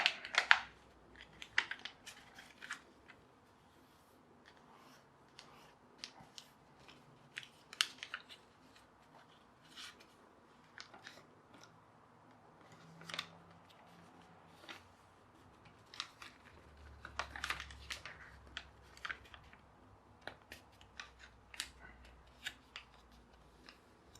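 Sheets of paper are creased and folded into a hammerhead glider paper aeroplane, with soft crinkles, rustles and sharp creasing snaps scattered irregularly over a quiet background.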